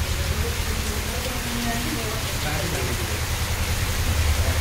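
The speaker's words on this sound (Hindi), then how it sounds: "बरसात काफ़ी हो रही है" Heavy monsoon rain pours down steadily in Orai during a rainy-season downpour, a constant loud hiss with a low rumble underneath that never lets up.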